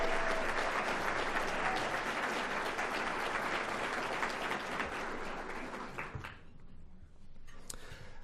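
Sustained applause from a luncheon audience at an annual downtown business awards event, a dense wash of many hands clapping steadily for several seconds before thinning out to scattered claps near the end.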